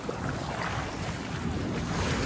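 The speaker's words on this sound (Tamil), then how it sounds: "அலை பயங்கரமாக இருக்கு" Strong sea waves crash and wash continuously off the coast at Dhanushkodi, a dense steady roar mixed with gusting wind buffeting the microphone near a fishing boat.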